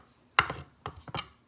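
A knife chops ingredients for a pear, blue cheese and steak salad on a cutting board: a handful of quick, close, sharp chops in two short bursts, with no talking.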